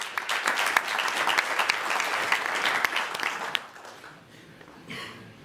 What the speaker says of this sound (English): Please give this man a hand.